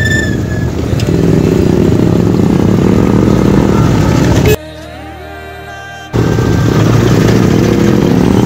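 Motorcycles idle and rev loudly and steadily at the start of a group bike ride on Independence Day, with one engine dropping briefly before picking up again.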